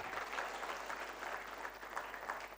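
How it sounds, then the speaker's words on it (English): An audience at the Merck Foundation Africa Asia Luminary 2025 conference claps continuously for a Ugandan minister being introduced, a dense, even wash of many hands throughout with no voices. "please, I request you to give a big round of applause from Uganda, Honorable Sarah Opendi"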